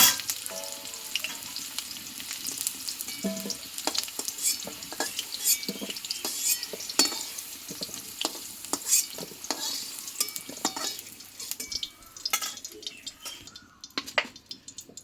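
Whole garlic cloves and potatoes frying in hot mustard oil for a Bengali chicken dish, a steady close sizzle with frequent stirring scrapes and clinks of a utensil against the pan throughout.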